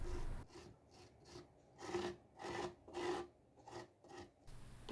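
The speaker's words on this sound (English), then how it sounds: "Using my spatula, I covered half of the wall, pushing the grout into all of the gaps." A spatula spreads grout over an egg-carton miniature brick wall, making a series of close, rhythmic rasping scrapes, each swipe a short gritty rub followed by a brief pause.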